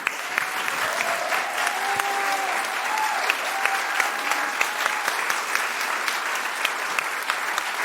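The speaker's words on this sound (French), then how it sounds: "On peut applaudir bien fort Delphine." An audience at a live KickCancer ceremony applauds Delphine with loud, sustained clapping that holds steady throughout, with faint voices and a brief tonal sound under the crowd.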